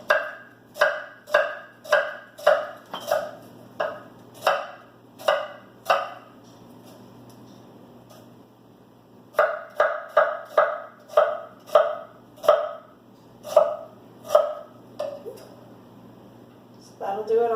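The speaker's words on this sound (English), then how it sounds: "we're going to cut half of a small onion" A knife chops half a small onion on a cutting board in a home kitchen: two runs of sharp, evenly spaced taps, about a dozen each, separated by a quiet pause, close and clear.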